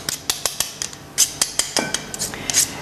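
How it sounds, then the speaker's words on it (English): A pastry cutter or utensil chops butter into flour in a mixing bowl, giving a steady series of sharp, close clinks and taps against the bowl, about a dozen in quick irregular rhythm. "you just cut the flour into the mixture, keep turning the bowl"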